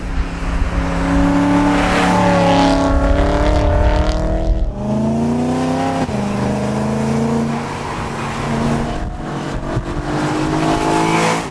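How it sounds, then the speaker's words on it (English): A BMW M3's deep 4-litre V8 engine growls steadily, rising in pitch as it revs and shifts through gears, loud and close. "you can still hear the menacing growl of the V8 engine"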